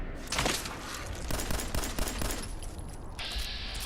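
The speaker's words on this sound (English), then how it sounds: "let's shoot it in the head with our first critical" Gunfire from Fallout 4 crackles in a rapid, dense burst of shots, loud and close, trailing off into a brief lull.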